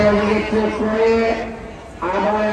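A large Black Cross bull at a cattle farm lows in drawn-out moos, two close, loud calls separated by a brief pause, with farm background noise.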